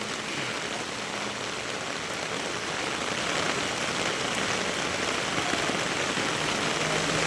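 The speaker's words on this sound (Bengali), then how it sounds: "সকাল থেকেই প্রচুর পরিমাণে বৃষ্টি হচ্ছে" Heavy monsoon rain pours steadily in a dense, constant roar, loud and close throughout with a faint low rumble beneath and no voices.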